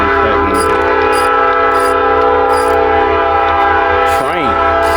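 Passing train blasting its horn, a loud sustained chord held for the whole five seconds, with a voice speaking briefly at the start and a sweeping tone near the end.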